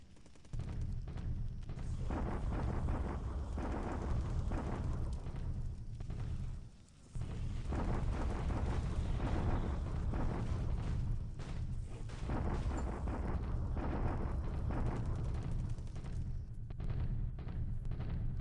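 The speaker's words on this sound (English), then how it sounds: "Japanese bombardment in the impassable hex." Artillery bombardment explosions in the War in the Pacific strategy game: a dense, continuous rumble of booms and blasts, loud and steady for the whole stretch, with one brief dip in the middle and no voices.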